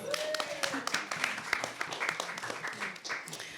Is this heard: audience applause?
yes